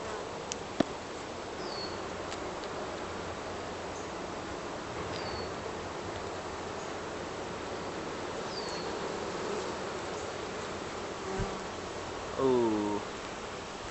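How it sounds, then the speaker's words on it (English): Honey bees at an open beehive hum in a steady, dense buzz that carries on throughout, with a few brief clicks and a short voice-like sound near the end. "Inside this pile of bees?"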